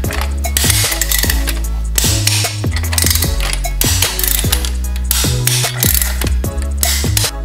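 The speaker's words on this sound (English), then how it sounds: "now we can go ahead and fully tighten these header flange bolts to 16 pounds feet of torque" A hand ratchet tightens the exhaust header flange bolts on a 2020 Yamaha MT09, giving loud, close, rapid clicking strokes in continuous rhythmic bursts for several seconds with no talk over it.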